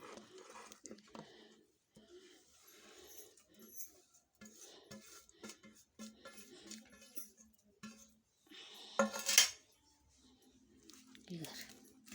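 Chopped onion and beetroot stirred into dosa batter in a bowl: soft wet scraping and clinks of a spoon against the vessel come in irregular bursts, with a louder clatter near the end, while someone talks over it.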